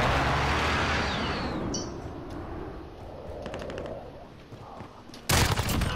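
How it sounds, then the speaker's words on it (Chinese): Gunfire with a SCAR rifle in Call of Duty: Modern Warfare multiplayer on PS4: scattered shots and short bursts over game ambience, ending in a sudden loud, close burst of fire. "我自己放枪"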